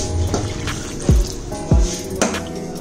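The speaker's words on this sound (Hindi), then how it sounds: "डालेंगे इसमें हम पानी" Water pours into a pot nearby with a few sharp glugs and splashes over a low, steady background.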